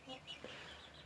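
A hen and several roosters cluck softly in a quiet coop, the short calls low in level and heard at a distance.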